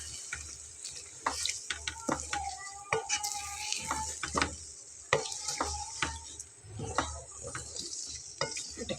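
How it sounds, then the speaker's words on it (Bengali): A spoon works chicken curry with milk around a kadai, scraping the sides in repeated close strokes over a soft, steady sizzle, with no voices. "এটা খুব ভালোভাবে নেড়ে কড়াইয়ের পাশ থেকে এভাবে তুলে দিতে হবে।"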